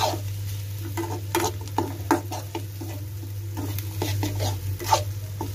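Egg borji stirred and frying in a pan, with a steady sizzle under repeated scraping and stirring strokes, close and moderately loud.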